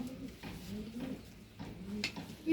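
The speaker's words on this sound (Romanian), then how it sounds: "Am urcat aici sus la porumbei." Racing homing pigeons coo softly nearby in repeated low, throaty calls, overlapping one another with a faint rustle at the end.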